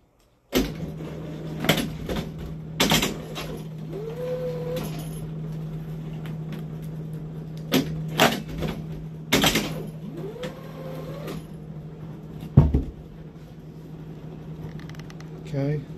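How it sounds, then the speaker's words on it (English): A used PAC strapping machine cycles through several straps, each with sharp mechanical clunks and a short whirring tension sound over a constant motor hum, repeating every few seconds. "This is the PAC strapping machine, and we're going to show you a couple straps on the machine."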